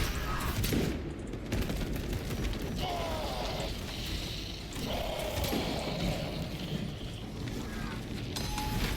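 Repeated gunfire in Space Marine 2 with rapid shots, mechanical clanks and whirring weapon sounds throughout, loud and dense.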